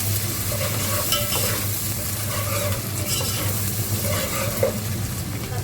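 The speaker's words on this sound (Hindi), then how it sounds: "इसको अच्छे से ब्राउन करना है लहसुन अदरक को।" Garlic and ginger browning in a frying pan for a vegetable pulao, a steady loud sizzle under repeated stirring scrapes, with a low hum throughout and no talking.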